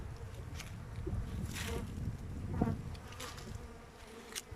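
Honeybees flying around beehives in winter, a dense low buzzing hum with individual bees passing close by, steady throughout.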